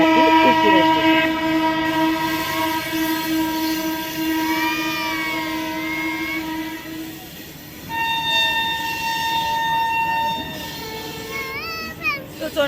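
An Indian local train running toward Raipur station rumbles loudly and sounds long tonal horn blasts, with people talking and a child crying nearby.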